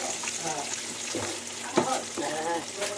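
Fish fries in hot oil in a pan with a soft, constant sizzle, broken by a few stirring scrapes and clatters, fairly quiet and close.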